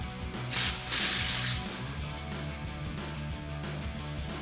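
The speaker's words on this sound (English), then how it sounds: "We're going to use the same 15 millimeter socket and impact gun to remove the bolt while holding the other side with an 18 millimeter wrench." Impact gun with a 15 mm socket backing out a rear sway bar end link bolt on a Jeep Wrangler TJ, a loud rapid hammering burst followed by a second burst, then the tool's lighter rattling and whirring as it spins down.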